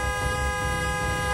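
A car horn stuck on because the steering-wheel horn is jammed down on one side gives a continuous, steady, loud tone with no break, heard without any talking.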